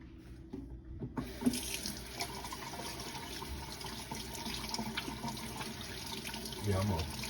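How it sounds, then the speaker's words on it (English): Tap water runs steadily into a crock pot that holds chicken feet, a continuous hissing splash that starts after a brief quiet pause and rises a little near the end. "I'm gonna add a little water"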